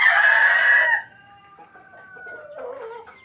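A Rhode Island and Black Australorp chicken crows loudly once for about a second on a rooftop, followed by quieter clucking and faint calls.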